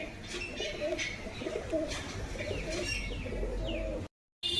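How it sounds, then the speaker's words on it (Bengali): Domestic Giribaz pigeons coo softly in repeated low phrases with faint chirps, at moderate distance, before a brief silence at the end. "দেশি গিরিবাজ কবুতর"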